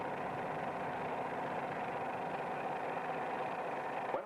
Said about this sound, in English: notice that the sound of the engine changes rather slowly.